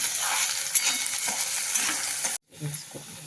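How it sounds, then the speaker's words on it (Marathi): Chopped tomatoes sauté with softened onion in a pan for a green chickpea amti: a steady, close, bright sizzle with stirring that stops abruptly, followed by a few quieter scrapes and clicks. "आता आपण टोमॅटो टाकून घेऊ छान टोमॅटो पण एक दोन तीन मिनटं परतू द्यायचे आपल्याला"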